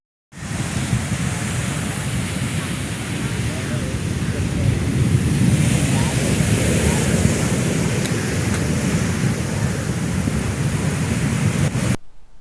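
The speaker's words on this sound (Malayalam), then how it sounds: "ചവറ കരിത്തുറയിൽ ശക്തമായ കടൽ കയറ്റം" Steady, loud roar of strong sea surge and breaking waves on the coast at Karithura, Chavara, a mineral-sand mining area where the sea pushes over sandbags; continuous broadband rush, with wind buffeting the microphone, no voices.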